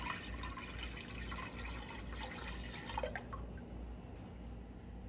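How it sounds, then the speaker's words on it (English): Water runs and splashes steadily into a large pot set over high heat while preparing Polish sour rye soup, a continuous close pour with no talking. "I'm gonna add my water"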